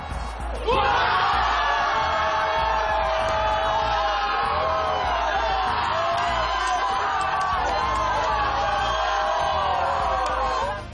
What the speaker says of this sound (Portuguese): soltam o grito de gol logo aos 19 minutos